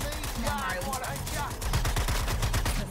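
Rapid turret gunfire in the video game Suicide Squad: Kill the Justice League, loud bursts of repeated shots rattling close, with players talking over the shooting.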